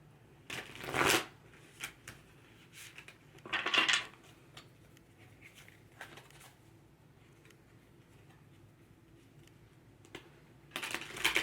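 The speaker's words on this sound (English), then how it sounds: "let's shuffle these cards here" Tarot cards being shuffled by hand in a few separate bursts of crisp riffling and flicking, close and fairly quiet, with soft pauses of near silence between them.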